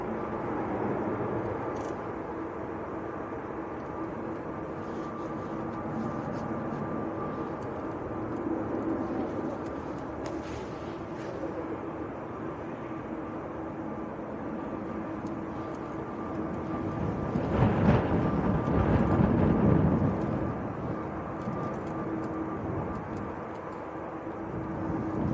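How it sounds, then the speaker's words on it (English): An Aer Lingus Airbus A330 taxis out at Manchester Airport, a distant steady jet-engine hum that swells louder for a few seconds near the end, with outdoor background noise. "A330 is taxiing out at the moment."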